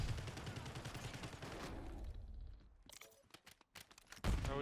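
Gunfire in Call of Duty Warzone, sniper rifles firing from somewhere in a Warzone battle royale match: bursts of loud, rapid shots up close at first, then sparser sharp cracks and a final heavy blast, with no talk.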